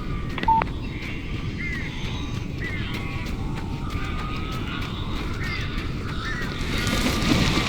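Strange birds in Alan Wake Remastered give off squawking, honking cries over a thick, constant low rumble, with the screeching growing more intense toward the end.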